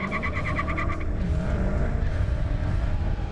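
A 2015 Dodge Challenger SRT Hellcat with 707 horsepower on street tires launches hard at a drag strip, its loud engine roaring continuously close by with a brief high whine or tire squeal at the start.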